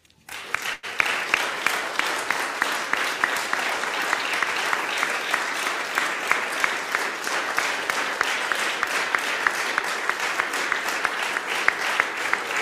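Sustained, even applause from an audience at a French ministerial handover ceremony between Franck Riester and Roselyne Bachelot, starting abruptly after a brief quiet moment and staying loud and steady to the end.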